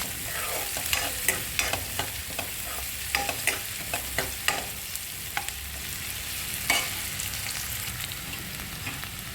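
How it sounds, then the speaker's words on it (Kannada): Onions sauté in a pan for dal and broken wheat khichdi, a low continuous sizzle with frequent light scraping stirs through the first half, then settling into a quieter fry. "ಈರುಳ್ಳಿ 1-2 ನಿಮಿಷ ಬಾಡಿಸ್ಕೊಳ್ಳೋಣ ಅಲ್ಲೇ."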